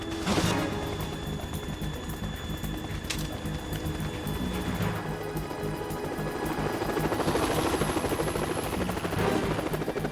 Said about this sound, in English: Is Otacon flying the helicopter?